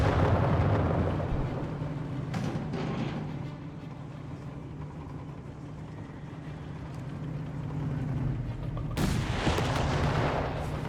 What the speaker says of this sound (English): Bit more shooting there.